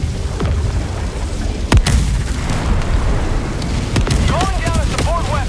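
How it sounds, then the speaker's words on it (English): Artillery explosions in Helldivers 2, heavy booms rolling over constant battle noise, with one sharp near blast standing out and more impacts and whistling tones toward the end. "Where the hell is this artillery at?"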